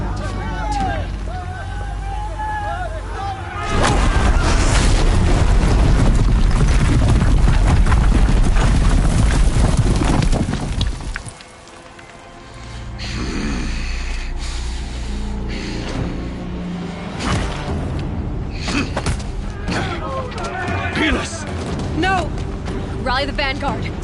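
Heavy guns fire during a large video game battle, a loud sustained barrage of booms and rumbling blasts with shouted voices over it, then a brief lull before more distant firing and talk return.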